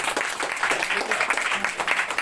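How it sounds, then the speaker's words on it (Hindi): A church congregation claps together during a Hindi-language healing and deliverance prayer service in Madhya Pradesh, a dense, steady patter of many hands filling the whole moment at moderate loudness. "ताली बजाएंगे।"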